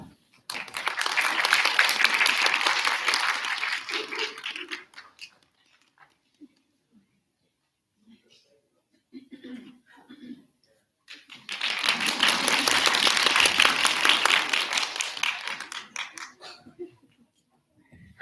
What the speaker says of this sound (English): Let's give one more round of applause, please, for our fantastic writers.